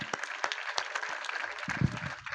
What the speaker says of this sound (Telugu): అందరూ చప్పట్లు కొడతా ప్రభుకు